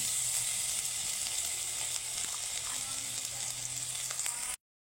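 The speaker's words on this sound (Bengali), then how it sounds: "আদাটাকে একটু ভেজে নেব।" Grated ginger frying in mustard oil, a continuous bright close sizzle holding steady for several seconds before cutting off abruptly.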